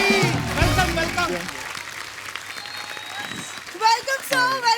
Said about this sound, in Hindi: जोरदार तालियां अक्षय बाजी के लिए।